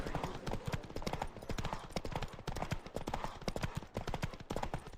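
Horse galloping in a race in the video game The Witcher 3: Wild Hunt, a rapid, steady drumming of hooves that stays loud and close throughout, with a brief voice mixed in.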